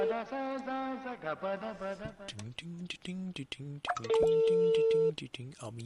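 During a radio FM prank call, a phone's steady ringing tone sounds once for about a second near the end, amid an ongoing voice and music-like talk.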